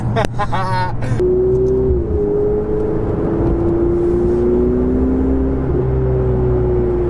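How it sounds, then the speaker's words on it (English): Ferrari 488 turbocharged supercar engine heard from inside the cabin while driving gently, a steady low drone with a rising whine that holds through the clip, with a short burst of talk at the start. "I'm driving a 488"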